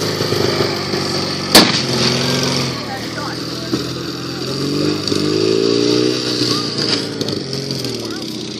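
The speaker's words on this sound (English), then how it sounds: "they have now triggered their anti-tank weapon, 75mm Pak 40, upon the convoy" 75mm Pak 40 anti-tank gun firing on a convoy at a wartime battle reenactment, one sharp loud blast near the start, then steady vehicle engine rumble continuing throughout.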